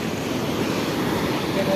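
Sea waves roll onto the shore at Diu, a steady broadband wash of surf mixed with wind noise on the microphone, continuous and fairly loud.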